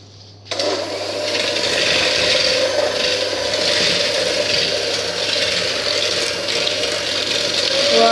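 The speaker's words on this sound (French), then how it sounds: "On va mélanger tout ça au batteur électrique." Electric hand mixer whirring steadily as it beats three eggs into cannelé batter, a continuous close, loud mechanical drone with gear-like rattle that starts abruptly after half a second and runs without pause.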